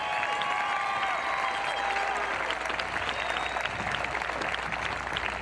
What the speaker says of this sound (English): Let's give one more big round of applause to our keynote commencement speaker